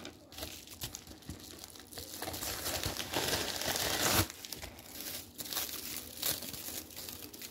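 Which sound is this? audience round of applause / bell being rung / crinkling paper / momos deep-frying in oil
crinkling paper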